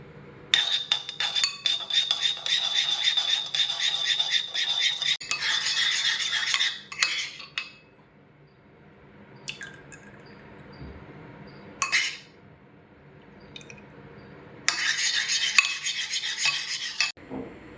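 Ketchup-based tonkatsu sauce being stirred in a bowl, with a utensil scraping and clinking against the sides in bursts separated by brief pauses, close and fairly loud.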